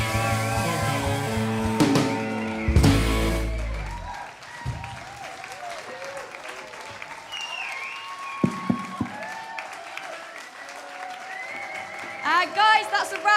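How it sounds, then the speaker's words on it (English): Audience applause for the band The Achievers at an evening show, a burst of clapping and crowd noise while a presenter talks over it, then fading to scattered claps and murmurs. "Can we have a massive round of applause for the Achievers?"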